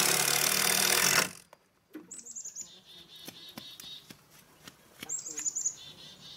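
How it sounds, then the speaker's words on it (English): Agitated bird chirping outdoors beside a gate, in repeated quick high bursts after a loud rush of noise at the start, with scattered sharp knocks and clicks between the calls. "That bird's mad at me."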